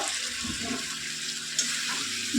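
Water splashes steadily into a pan of spiced potatoes being cooked with green chilli and cumin, a continuous close pouring rush with no voices.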